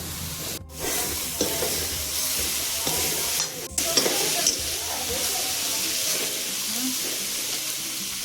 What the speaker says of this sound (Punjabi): ਹੁਣ ਆਪਾਂ ਆਲੂ ਪਾਉਣੇ ਆ ਤੇਲ ਪਾ ਕੇ।